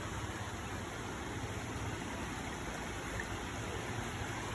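Floodwater from a flooded street in Mansueto, Bulacao, overflows into a drainage channel, making a steady, continuous rushing wash like a stream. A faint engine hum sits underneath, and no one speaks.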